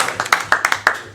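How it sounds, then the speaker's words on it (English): A few people at a Tennessee state board meeting clap briefly for a newly sworn-in member, a sparse, uneven handful of distinct claps close by that quickly tapers off. "I feel like we ought to clap"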